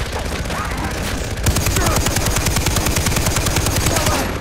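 Sustained machine gun fire in Far Cry 3, a loud rapid stream of shots that grows denser and harder partway through, with a brief break at the start.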